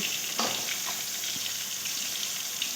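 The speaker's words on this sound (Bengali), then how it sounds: "তেলের মধ্যে উচ্ছেটা যতটা ভালো ভাজা হবে ততটাই খেতে সুস্বাদু হবে" Bitter gourd pieces fry in fish oil with a continuous, even sizzle and soft spitting crackles, close and steady through a short stretch, with no voices.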